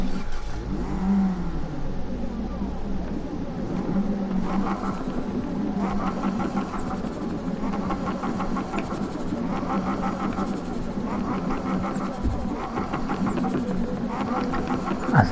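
Acura RSX-R front-wheel-drive drift car in Need for Speed 2015, engine revving repeatedly in rising and falling bursts with a rough mid-pitched roar, loud and up close with no talk over it.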